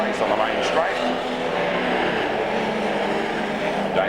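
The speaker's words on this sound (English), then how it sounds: "during tonight's Astra Saloon Car feature race on the main straight" Astra saloon cars race down the main straight at Archerfield Speedway, engines roaring and passing at a distance with a tire squeal, under an announcer talking over a public address.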